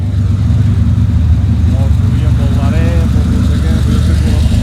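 A Porsche 911 rally car at a Monte-Carlo Historique rally stage in Barbières holds a steady, droning engine note throughout, with faint shifts in pitch, under continuous spoken commentary.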